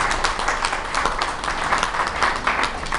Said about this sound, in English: deserves a round of applause for being here